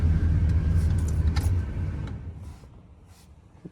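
A car engine idles with a low rumble that fades out after a couple of seconds, leaving quiet with faint clicks.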